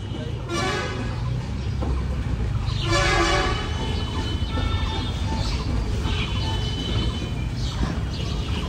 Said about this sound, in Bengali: ওটা কিন্তু দাঁড়ায় নাই ট্রেন।